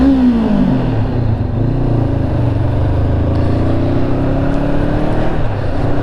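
2022 Honda CB500F motorcycle accelerating, its engine note climbing then dropping at a gear change before pulling steadily again, loud and close, mixed with wind rush.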